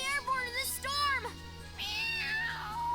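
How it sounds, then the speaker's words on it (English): Cat meowing in the La Pucelle Tactics video game, several drawn-out, wavering meows in a row, close and clear over a low hum of game background sound. "Enough with your meowing."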